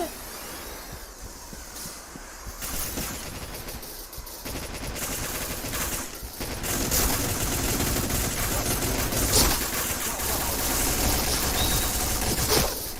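Rapid automatic weapon fire in the online shooter Point Blank, dense continuous rattling bursts that grow louder and more sustained toward the end, with game noise mixed in.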